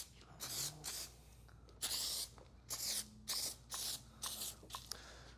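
A foam sprayer puts N-914 rinseless wash foam onto a filthy black car in six or seven short, close hissing bursts, with quiet gaps between them and no talking.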